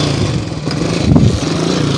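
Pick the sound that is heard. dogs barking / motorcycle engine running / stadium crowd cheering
motorcycle engine running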